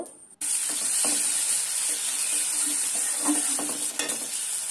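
Vegetable curry with spice paste, onion and spices frying in hot oil, giving a steady, close sizzle throughout with a few soft stirring scrapes and clinks scattered over it.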